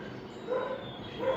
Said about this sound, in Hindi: पीछे कुत्ते भौंकने की आवाज़ आ रही होगी